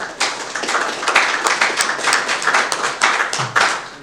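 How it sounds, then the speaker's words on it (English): Scattered hand clapping from a modest audience at a city council meeting, a brisk run of claps rising and falling over a few seconds, fairly close and uneven rather than a full roar. "Why didn't I get as loud applause as the last"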